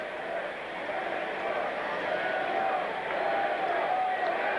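Fans in the stands at a 1986 NFL game between the San Diego Chargers and Philadelphia Eagles raise a cheer for Randall Cunningham, a steady, distant crowd roar under a commentator's voice.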